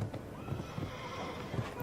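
Horse hooves at a show jumping competition for seven-year-old horses, a steady run of soft thuds and clip-clops across a busy arena ambience, with a faint whinny-like tone mixed in.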